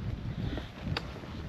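Gusty wind rushing steadily over a mountain trail toward the summit of Mount Pulag in the Philippines, a continuous low buffeting roar close to the microphone.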